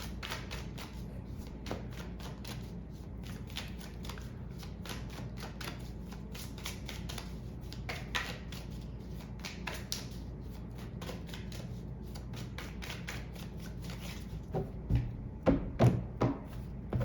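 Tarot cards being shuffled by hand, a continuous run of soft riffling flutters and taps, close and quiet, with a few louder thumps near the end.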